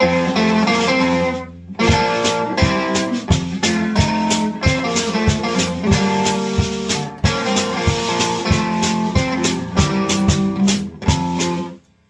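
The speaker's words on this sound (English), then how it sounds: "the left side of this pedal is like a tweed sound, a tweed overdrive sound" Electric guitar through a tweed overdrive pedal playing a lively rockabilly-style rhythmic riff, warm and slightly gritty, loud and close, ending abruptly after a brief pause midway.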